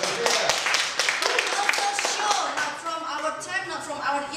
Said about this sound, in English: Give a clap for yourself.